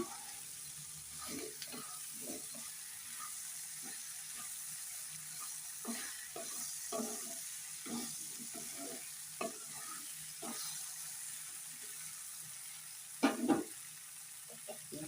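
Tamarind broth poured into a pan of frying okra gives a moderate sizzle with scattered stirring scrapes and clinks, ending in a brief louder clatter. No one speaks.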